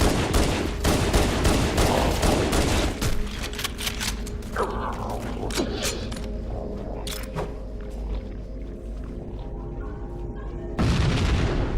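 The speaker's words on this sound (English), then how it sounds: "shoot them with the pistol from the elevator" Rapid gunfire in Halo Combat Evolved Anniversary's Library level, a dense run of sharp shots early on thinning to scattered booms and clanking mechanisms, loud and close, with no talk.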